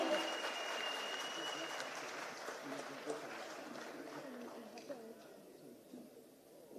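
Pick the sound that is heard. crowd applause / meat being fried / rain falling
crowd applause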